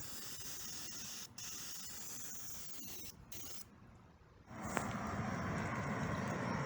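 An aerosol can sprays a coating onto the door of a 1962 Impala: close, hissing bursts with brief breaks, then a longer continuous spray toward the end.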